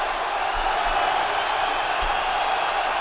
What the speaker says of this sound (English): Now we've got the crowd going.